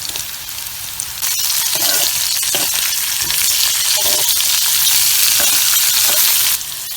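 Chopped leeks hit a pan of frying potato and dry fish and set off a loud, steady sizzle, with brief stirring scrapes running under it throughout.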